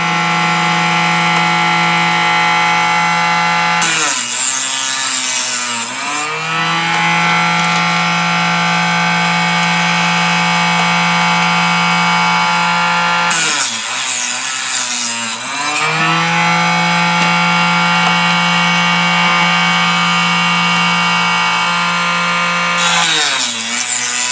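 A motorized case trimming tool cuts cartridge cases in a loud, steady whine, broken three times by harsher grinding bursts as each case is fed through, with no voices heard.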